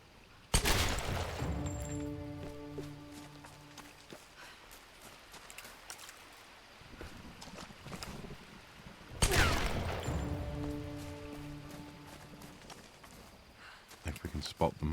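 Two loud, sharp blasts of gunfire in Tomb Raider (2013), each followed by a ringing decay, set apart by several seconds, with a voice talking between them.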